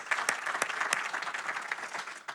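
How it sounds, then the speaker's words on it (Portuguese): Applause from the audience at a book presentation in Porto, many hands clapping in a dense, lively patter with a few sharp near claps, steady and then tapering slightly, no speech. "Uma grande salva de palmas também a eles também"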